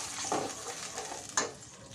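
Onion-tomato paste with ginger-garlic paste sautéing in a pan for a Vidarbha-style patwadi rassa, giving a steady close sizzle with a few scraping stir strokes and no voices.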